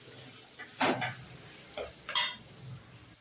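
Onions and tomatoes fry in a pan for seeraga samba mutton dum biryani, with a few scraping stirs of a spoon over a soft, low sizzle and no talking.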